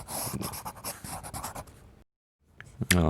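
A pencil scratches across a sketchbook page in quick, close strokes, then goes silent for a moment before softer scraping resumes and a voice briefly comes in at the end.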